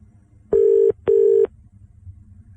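Telephone keypad dialing tones: two short, steady beeps in quick succession, clear and fairly loud over a faint low background hum.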